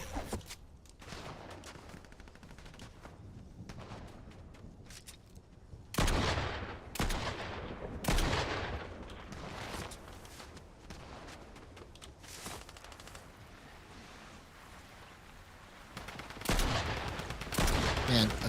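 Gunfire in a video game, bursts of distant shots and sharper, louder volleys breaking out in clusters across a quieter background, with no talking.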